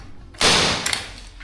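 A nail gun fires once with a loud, sharp crack into a metal track, and a shorter secondary clatter follows moments later.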